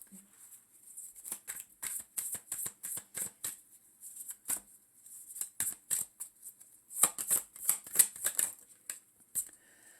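Tarot cards being shuffled by hand in a quiet room, a run of crisp riffling bursts and soft slaps that come in uneven clusters, close and fairly light, with no talking.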